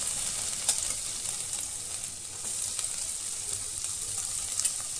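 Garlic frying in hot oil for paneer chilli, a steady close sizzle and hiss with a few faint pops and stirring taps, no voices.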